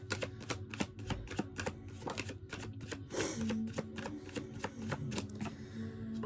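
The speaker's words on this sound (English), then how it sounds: "Let's give these cards a shuffle." Cards are shuffled with rapid, crisp riffling clicks in quick bursts, close and fairly quiet, with a faint tone humming in the background.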